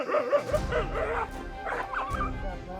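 A dog yips, barks and whimpers in short, high, excited bursts close by, with a low rumbling background and some voice-like sounds mixed in.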